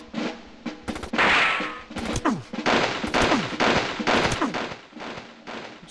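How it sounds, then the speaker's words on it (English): An auto rifle fires at normal speed in the video game Army Men, with repeated rapid bursts of close, loud shots separated by short pauses and no talking. "If you do normal auto rifle, that's normal firing speed"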